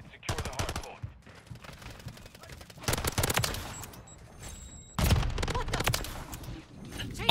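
Renetti pistol gunfire in the video game Modern Warfare 3 comes in several rapid bursts of sharp shots with brief gaps between them, fairly loud and close, with faint game background noise.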